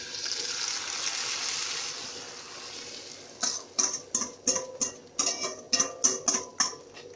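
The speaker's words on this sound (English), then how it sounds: "we're going to pour our egg into the pan, and you should hear a sizzle." Beaten egg hitting a hot pan gives a steady loud sizzle for a few seconds, then a series of rhythmic crackling bursts as it keeps frying, with no voices.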